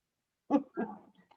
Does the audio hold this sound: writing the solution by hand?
no